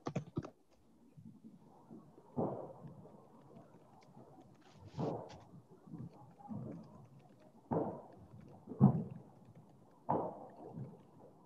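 Keys on a computer keyboard are typed in sporadic short clusters of soft clicks and thumps, faint and close, with quiet pauses between bursts and no talking.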